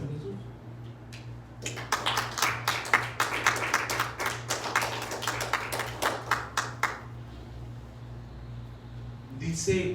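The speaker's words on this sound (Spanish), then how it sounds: "Denle palmas a Jesús." A church congregation claps hands together for about five seconds, a dense burst of close, overlapping claps over a low steady hum, fading out into quiet afterward.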